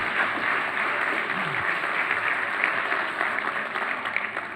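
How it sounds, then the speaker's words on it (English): A crowd in a lecture hall applauds the title of a book, a steady, full wash of clapping that stays even throughout, with a brief low vocal murmur partway in. "when the title of your book gets a round of applause"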